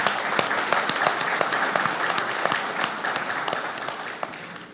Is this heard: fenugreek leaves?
no